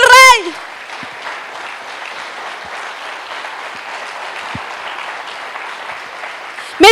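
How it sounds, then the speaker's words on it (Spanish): Congregation in a church service applauding, a steady broad wash of many hands clapping from start to finish, with a short spoken voice at the opening and another at the very end. "Dale un fuerte aplauso al Rey."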